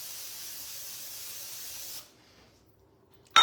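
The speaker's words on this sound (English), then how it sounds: "the first thing I'm gonna do is spray my pie plate" Cooking spray hisses from an aerosol can onto a 9-inch pie plate in one close, steady two-second burst, followed by quiet and a brief clatter.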